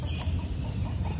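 Chickens cluck softly at a distance amid low outdoor rumble, with a few faint bird calls.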